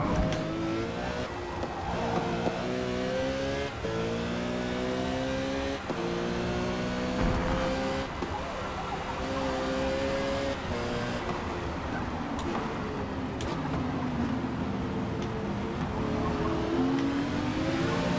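A race car engine in the game Forza Motorsport revs loud and close, with repeated rising and falling sweeps as it shifts through the gears. The engine runs without break, and no one speaks.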